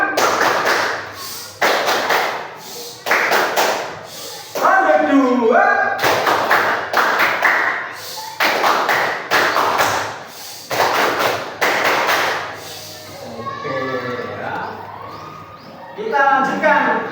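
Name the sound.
class doing the 'tepuk diam' clapping routine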